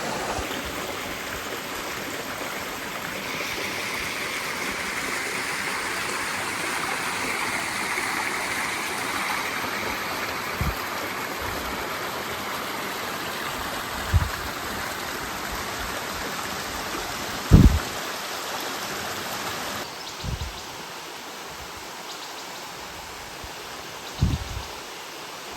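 A river rushes steadily past a campsite in Shenandoah National Park at sunset, a broad continuous flow of water noise with a few brief knocks and thumps nearby.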